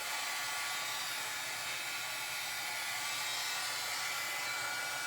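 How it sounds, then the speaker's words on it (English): Embossing heat tool blowing hot air, a steady, close, even whoosh of airflow that holds without a break for the whole stretch. "I'm going to grab my heat tool."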